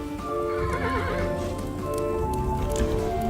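A horse whinnies in Kingdom New Lands, a clear wavering neigh rising and falling over steady game music, with soft clip-clop hoofbeats running under it throughout.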